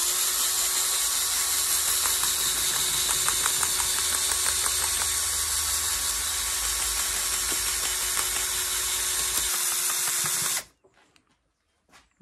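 A power drill spins a cleaning brush on a Renault Twingo cylinder head in one long, steady high whir with scrubbing chatter, running about ten seconds before cutting off abruptly.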